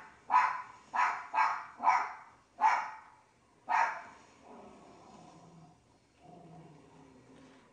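A rapid series of six loud barks from several dogs in a zombies video game, then quieter whimpering sounds trailing off, with no talking.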